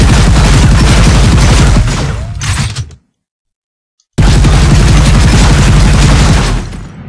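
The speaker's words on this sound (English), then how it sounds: "And now if we shoot the bottom ones, they shouldn't be able to break off." Gunfire hitting and breaking reinforced concrete pillars in an Unreal Engine 4 destructibles demo, heard as a loud, dense crumbling roar that cuts to silence for about a second and then resumes just as loud.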